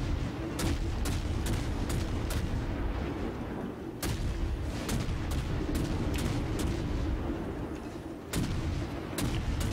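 Warship guns in World of Warships firing in a naval battle, a steady series of sharp cracks and booms at irregular intervals over a continuous dense roar of engine and sea noise.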